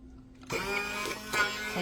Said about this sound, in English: now I'm going to take my immersion blender while we're doing it